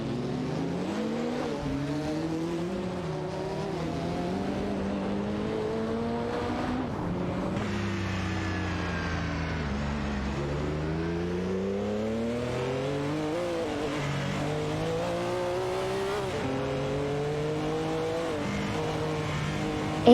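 A Ferrari 288 GTO Evolution races a RUF CTR Yellowbird in an AI-driven racing game. Engines snarl and rev in continuous rising and falling sweeps through gear changes, loud and unbroken, with no talk.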